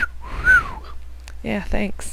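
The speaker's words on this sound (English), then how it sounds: "The bird was whistling at me." A Minecraft bird whistles a rising and falling tone, followed by brief chirps, while a person speaks briefly over it.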